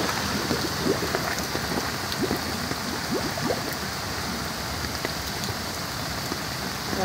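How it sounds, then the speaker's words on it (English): Water bubbles up from pipes beneath the surface, a dense, constant patter and fizz like steady rain, even and moderately distant throughout. "Making a bubbling sound."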